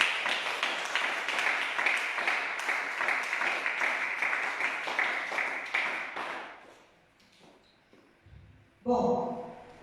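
A church congregation claps together in dense, sustained applause for about six seconds, then it fades to scattered quiet sounds before a short louder burst near the end.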